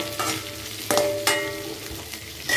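Onion and capsicum sizzle over a high flame for chilli chicken, a steady close frying hiss broken by a few sharp stirring scrapes and clinks against the pan.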